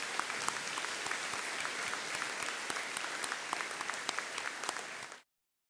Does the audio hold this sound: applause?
yes